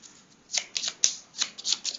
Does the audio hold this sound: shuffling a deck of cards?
yes